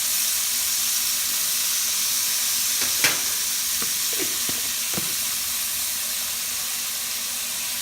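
Garlic sizzling in a hot wok while being stir fried, a steady close hiss with a few scraping stirs and clinks near the middle.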